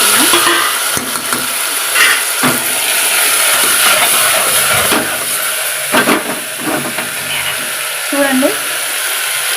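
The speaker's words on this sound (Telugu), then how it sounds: "కందిపప్పు బాగా వేగింది ఆయిల్లో. చూడండి, టమాటీలు, పచ్చిమిర్చి కట్ చేసుకుని వేసుకుంటున్నాం." Toor dal frying in hot oil as chopped tomatoes and green chillies go into the pan, a steady loud sizzle with occasional stirring scrapes and small clanks of a spoon against the pot, no talking.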